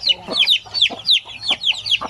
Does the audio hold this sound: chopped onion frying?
no